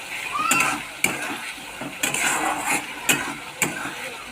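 Chicken curry masala and garam masala spices fry in a pan with a soft close sizzle, broken by a handful of sharp spoon clanks against the pan at roughly half-second to one-second intervals.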